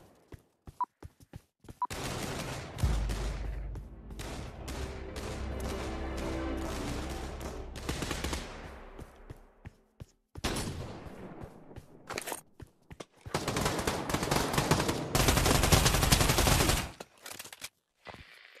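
Rapid bursts of automatic gunfire in the Pavlov VR shooter, loud and close, with sharp single shots and a couple of long sustained fusillades separated by short gaps.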